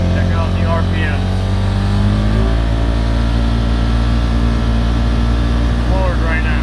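A 2016 Polaris Ranger 900xp High Lifter Edition UTV with an aftermarket clutch runs loud and close, its engine droning steadily and climbing in pitch as the throttle opens, with someone talking over it.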